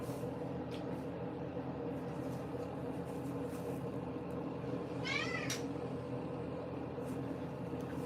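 A house cat meows once, a short wavering cry partway through, over a steady indoor hum with faint clicks around it.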